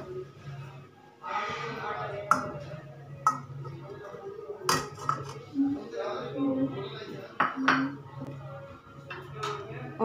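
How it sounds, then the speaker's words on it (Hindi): Boiled potatoes are dropped into a metal cooking pot for mashing, giving light clinks and knocks against the pot at close range, with a voice talking throughout. "इसके लिए हमने एक बर्तन लिया है जिसमें कि हम अपने आलूओं को डालेंगे।"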